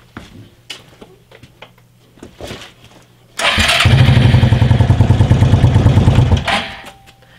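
A Suzuki 300 King Quad ATV engine cranks and catches after a few light clicks and knocks, then runs loud and close with a steady, rapid putter before cutting off abruptly.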